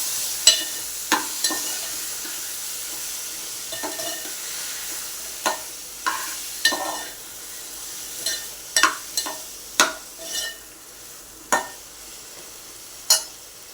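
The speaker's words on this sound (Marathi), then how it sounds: "त्यामध्ये आपण शिराळा बटाटा टाकूया तेही परतून घेऊया" Ridge gourd and potato sizzle softly in a pan while a spatula scrapes and stirs in repeated sharp strokes, close by with no talking.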